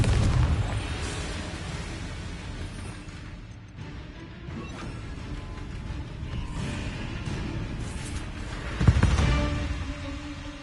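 Confringo fire spell blast in the Hogwarts Legacy video game: a sharp explosive burst near the end, over a continuous rumbling bed of game combat noise.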